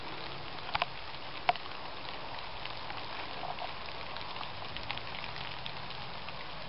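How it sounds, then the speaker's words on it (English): Soft, steady rain patters under an afternoon sun, a faint continuous hiss with a few louder drops now and then. "Listen to the rain and the afternoon sun."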